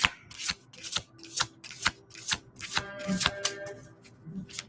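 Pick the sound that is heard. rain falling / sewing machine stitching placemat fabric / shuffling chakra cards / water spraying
shuffling chakra cards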